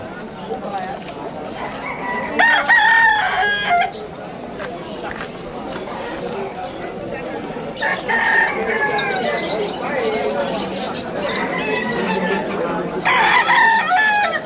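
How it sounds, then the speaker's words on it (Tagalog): Chickens and roosters at the poultry stalls of an open-air pet market in Malabon, repeated crowing and clucking across the clip amid busy crowd noise, with people talking throughout. "Ito na lang sa mga manukan."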